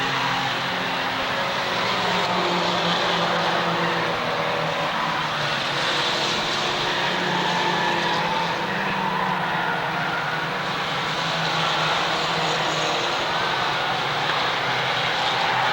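Mini stock race cars circling Waterford Speedbowl in the closing laps of a 1992 feature, a steady loud roar of engines that holds from start to end without pause.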